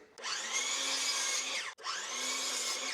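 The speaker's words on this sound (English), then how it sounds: "All we have to do is cut our 14-inch board, cut our 9-inch board" A miter saw cuts wooden boards in two short passes, each a rising motor whine with a sweeping cut that winds down, separated by a brief gap, close and alone.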